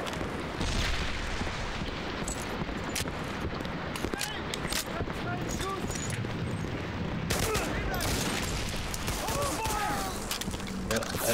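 Dense World War II combat gunfire in Medal of Honor: Allied Assault, with shots and bursts rattling continuously under a busy battle din and occasional sharper cracks, with a voice talking over it.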